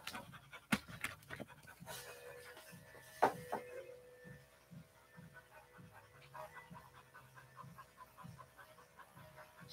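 An English Springer Spaniel pants steadily in quick rhythmic breaths, fairly quiet and close, with a few sharp knocks and scuffles early on.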